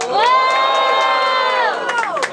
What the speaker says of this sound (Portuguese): Diferentemente, muito barulho quem gostou das rimas da Corto